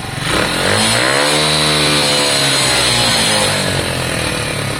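A Lexmoto Valiant motorcycle's small fuel-injected engine, which struggles, revs hard and close, climbing to a loud buzzing whine, holding high, then easing back down.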